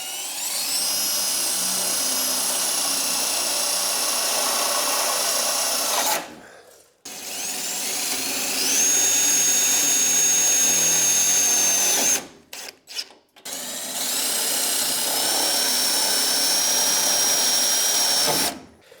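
Power drill driving self-tapping screws into the grille of a budget LS-swapped S10 pickup, three loud sustained whirring bursts separated by brief pauses, close up with no talking.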